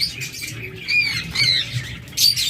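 A pet parrot in a breeding setup gives repeated harsh, shrill squawks in close, loud bursts over a low background hum, with no talking.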